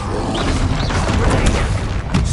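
Blasting spell explosion during a troll fight in Hogwarts Legacy, a dense booming crash with rumbling debris over continuous loud battle noise.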